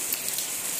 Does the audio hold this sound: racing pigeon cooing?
no